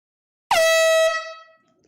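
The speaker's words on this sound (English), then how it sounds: "I think this is the third or fourth air horn of the night" A single loud air horn blast, sharp onset, held for about half a second before fading out.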